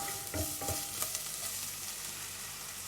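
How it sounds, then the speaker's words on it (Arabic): Chopped onion sizzling and frying in a hot pan for pizza sauce, a steady close hiss with a few stirring clatters near the start. "انا درت هنا بصله كبيره، غادي نخليوها تشحر على خاطرها"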